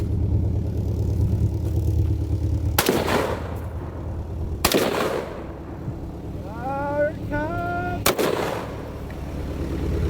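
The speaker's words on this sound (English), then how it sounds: "This is a SOCOM 16, and I have 3 rounds of Hornady 178 grain hunting rounds." A SOCOM 16 rifle fires three sharp, loud shots of .308 Hornady 178-grain hunting rounds at a car, spaced several seconds apart, over a steady background engine hum.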